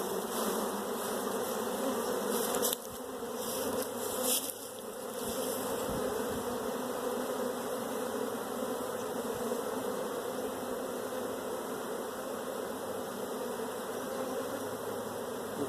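Honeybees being shaken and moved into a thin split fill the air with a steady, dense buzz, with a few dull knocks of frames and equipment early on, and no talking.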